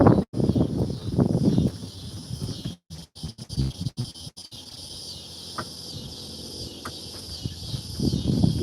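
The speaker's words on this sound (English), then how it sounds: "Listen to the cicadas." Cicadas buzzing near a low creek by a bridge, a dense continuous high drone under a few loud bursts of noise and brief dropouts, with nearby rustling and handling sounds at the start and end.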